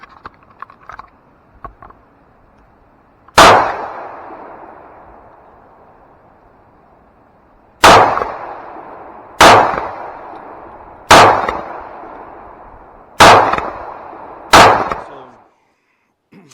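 A CZ 52 pistol fires Tokarev rounds: six loud, sharp outdoor shots at irregular intervals, each ringing off in a decaying tail, after some faint handling sounds.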